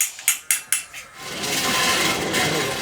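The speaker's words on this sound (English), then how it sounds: "Every morning and life cycle of these people begin with the sound of hammering metal." Brass metal hammered by hand in an Assam metalworking village, three sharp ringing strikes in quick succession followed by a fainter one, then a sustained scraping or rasping rush.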